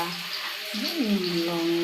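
Potatoes frying in a pan give a soft, steady sizzle across a short stretch, with faint tonal sounds rising over it partway through.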